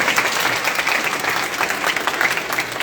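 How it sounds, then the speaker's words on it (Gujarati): An audience at a community gathering breaks into steady, dense applause that fills the whole stretch at an even level, with many hands clapping together and no voices on top. "તમારા માટે હાથ ઊંચું કરી તાળી પાડી દો"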